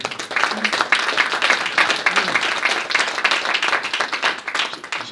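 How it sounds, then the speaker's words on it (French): An audience applauds after a presentation at a French talk on building with existing structures, many hands clapping in a dense, even patter that stays fairly loud and close from start to finish. "Merci beaucoup Margot, si vous voulez bien l'applaudir."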